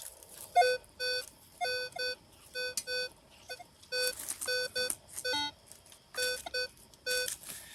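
A metal detector sounds a run of short electronic beep tones in an irregular rhythm while searching old cellar holes in New Hampshire, clear and close with only faint background noise.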